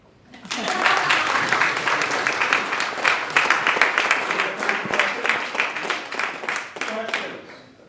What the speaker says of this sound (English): This is the time when you clap.